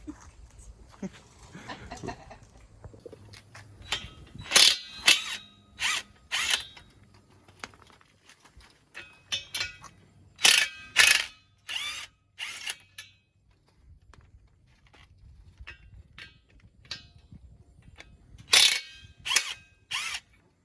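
Lug nuts come off the wheels of a 1979 Fox Body car being built up, heard as clusters of sharp, clattering mechanical bursts with quiet gaps between them.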